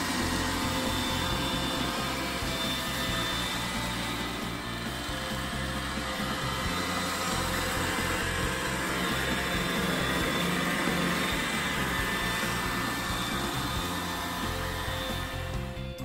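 An iRobot Roomba robot vacuum cleaner runs close by with a steady, continuous whirring hum and brushy mechanical rumble that holds at an even loudness throughout, with no talking.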